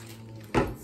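White distilled vinegar poured into a Ziploc bag for descaling gives a short, close splash and crinkle that starts abruptly after a quiet hum and fades within a fraction of a second, with no talking.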